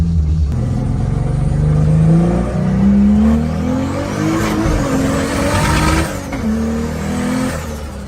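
A car just back from repairs is on a test drive, its engine revving up and down through gear changes, loud and close from inside or beside the moving vehicle.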